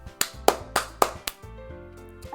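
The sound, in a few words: applause in video game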